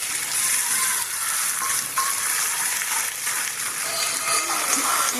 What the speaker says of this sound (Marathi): थोडासा कांदा थोडासा फ्राय झाला की त्यामध्ये आपण बटाटा टाकून घेणार आहोत.